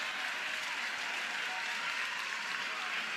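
Steady applause and clapping from a crowd at an Oklahoma versus Cal NCAA Tournament college softball game, dense and continuous throughout, filling the stands with a broad wash of hand claps.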